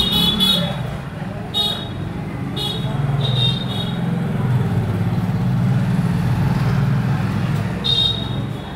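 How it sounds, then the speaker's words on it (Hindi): Roadside traffic passes a shop by the road, a continuous rumble of engines with several short car horn toots scattered across the clip, fairly close and loud. "इसलिए आपको गाड़ियों की थोड़ी आवाज़ ज़्यादा सुनाई देगी"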